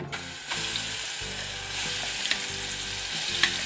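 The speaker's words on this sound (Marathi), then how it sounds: "गॅस बारीक ठेवून तेलातच परतून घ्यायचं आहे ह्याला मिरचीला" Red chili paste ground in a mixer, with half a spoon of cumin, sizzling and being stirred in a ladle of hot oil over low gas; a steady close hiss with a few scraping stir sounds, no talking.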